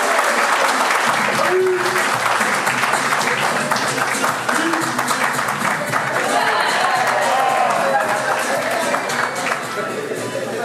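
Guests applaud at a Gabonese civil wedding ceremony, a dense, loud, sustained clapping from a crowd filling the room for several seconds, with voices murmuring underneath.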